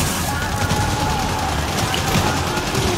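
Gunfire in Gears of War 4 rattles on without a break, a dense and steady stream of shots mixed into a busy game soundscape.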